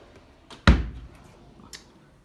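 A wardrobe drawer slides open with one sharp, loud knock followed by a brief rumbling slide, and a fainter click comes a second later in a quiet room.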